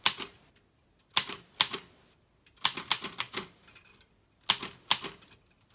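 Typing on a 1954 Optima Elite 2 German portable typewriter: sharp, close mechanical key strikes in short uneven bursts with brief pauses between, each clack crisp and percussive.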